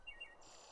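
Birdsong in the video game The Final Station: a few faint, high chirps and tweets against a quiet, airy green-landscape ambience, soft and distant with no voices.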